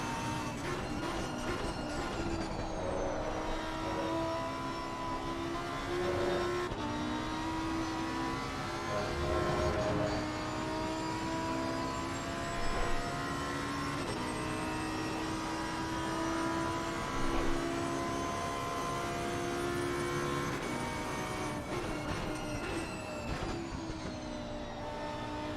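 A race car in Assetto Corsa Competizione laps the Monza circuit, its engine droning loudly and steadily with rising and falling pitch through gear changes, continuous throughout with no talk.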